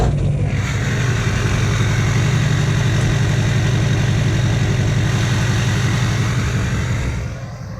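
A Duramax diesel with a 5-inch straight pipe and Allison 6-speed idles steadily and loudly at close range, a deep continuous rumble that holds for about seven seconds before easing slightly at the end.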